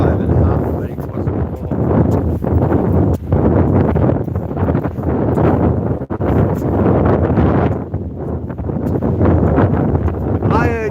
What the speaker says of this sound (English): Jack, how are you on this wet, windy, wintry Wednesday? It's absolutely horrible here.